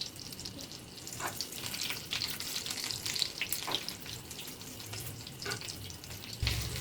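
Prawn cutlets fry steadily in a pan of hot oil during Bengali home cooking, a close, even sizzle with soft crackles that never lets up, a faint clatter near the end.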